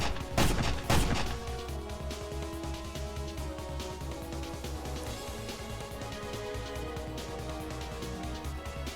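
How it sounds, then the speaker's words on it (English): A pistol fires in the visual novel game Secret Game: two loud, sharp gunshots crack near the start, then give way to a steady musical backdrop. "There was a loud gunshot from Fumika's side."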